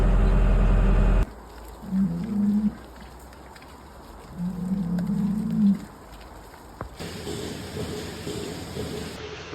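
Two low, drawn-out moos sound a little way off, separated by a pause, over a quiet rumbling background.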